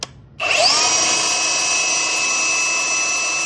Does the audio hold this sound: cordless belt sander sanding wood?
yes